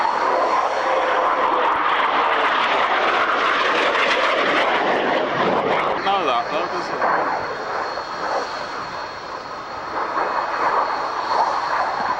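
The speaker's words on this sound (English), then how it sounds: "It's actually a former Swiss Air Force Hunter F-58A." A former Swiss Air Force Hawker Hunter F-58A jet passes at the Kemble Airfield airshow, a broad sustained engine roar that swells and eases slightly while a commentator talks over it.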